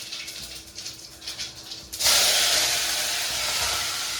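Cumin seeds hit hot oil for a khichdi tempering and burst into a loud, sudden hiss that then settles into a steady sizzle, following a quieter stretch of faint kitchen noise.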